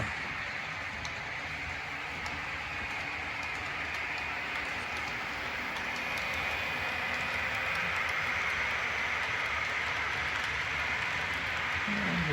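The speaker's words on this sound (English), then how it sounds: "kind of follow our train around a little bit" A model train runs along its track with a steady, close mechanical whir and faint rhythmic clicking that holds at an even level throughout, with no voices.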